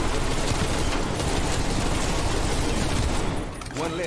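A Helvetica, the pack-a-punched Type 63 rifle in Black Ops Cold War Zombies, fires a dense, loud continuous barrage for about three and a half seconds before it tapers off.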